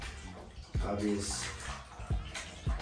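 Selvedge APC Petit New Standard jeans are pushed around in bathtub water during their first wash, giving low sloshing surges and splashy swirls with a few drips, while someone talks over it.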